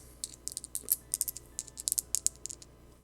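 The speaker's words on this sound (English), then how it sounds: "That's called very expensive metal dice." Expensive metal dice rolling and clattering on a hard surface, a quick run of sharp bright clicks and ticks at close range that tumble irregularly for about three seconds.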